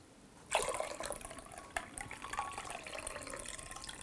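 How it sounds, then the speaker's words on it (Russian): Marinade liquid from a jar of pickled peppers is poured out into a sink, starting with a sudden splash, then a trickling, gurgling stream with a second burst partway through, close and fairly quiet. "Все, я сливаю жидкость эту, тщательно слейте, чтобы ничего не осталось."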